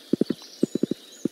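Horse hooves clip-clop in a farming video game, a quick run of crisp, evenly spaced hoofbeats in short bursts with brief pauses between, close and clear with no talk.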